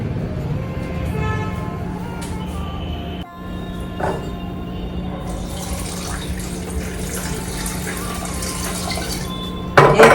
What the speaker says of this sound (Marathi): मी हे धुवून घेते आता लोणी